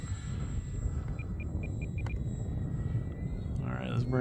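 A radio-controlled Arrows Bearcat model airplane powered by a 2200 battery flies overhead, its faint electric motor whine lying under near, continuous wind noise and a voice.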